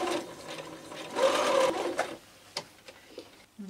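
A sewing machine stitching a fabric hem, with a steady whirring run of close rapid stitches for about a second, then brief mechanical clicks and small handling noises at low level.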